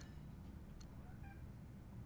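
A cat meows faintly a couple of times against a low, steady background hum.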